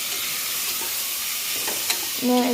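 Spice masala sizzling and frying in a pan while being stirred, a steady hiss with a few scraping clicks of the spoon and a louder bubbling sizzle near the end.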